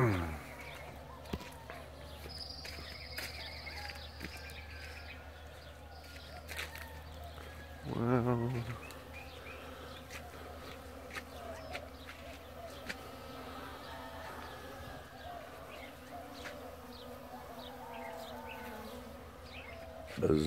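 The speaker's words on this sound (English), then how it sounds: "Bees." Bees and other insects drone softly around flowering dragon fruit plants on a farm, a faint steady buzz filling the background with occasional brief rustles and one short louder burst partway through.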